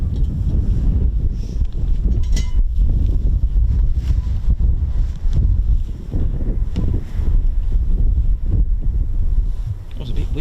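Strong wind buffets the microphone outdoors at an air weapons range, a loud continuous low rumble with gusty swells throughout, and faint voices under it.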